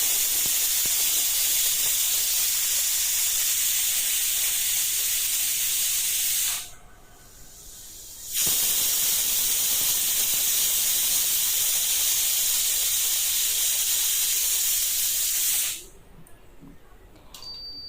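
A pressure cooker holding chana dal vents steam in a loud, continuous hiss. The hiss stops briefly once and tapers off near the end.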